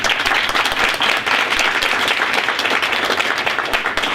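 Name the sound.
audience applause at a school board meeting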